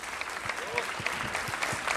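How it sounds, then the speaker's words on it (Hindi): Audience applause at a film promotion event with Ranveer Singh and Kapil Dev for the movie 83, fairly faint steady clapping with a voice speaking over it. "रणवीर और कपिल पाजी और कबीर के लिए सबसे पहले जोरदार तालियां।"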